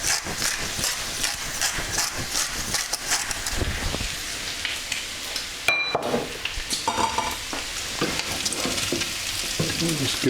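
Bacon and potatoes sizzle and fry steadily in a pan for German fried potatoes, a continuous crackling hiss with occasional stirring scrapes and a brief clatter midway, close and fairly loud with no talk.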